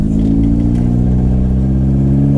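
Turbocharged 360bhp Mini engine droning loud and close while driving, a steady throaty hum with slight rising pitch under load, no voices over it.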